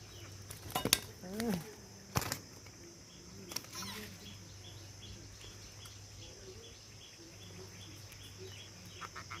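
A knife cuts through a magur catfish caught from a pond: a few quiet sharp clicks and scrapes near the start, with faint insects and birds chirping steadily outdoors.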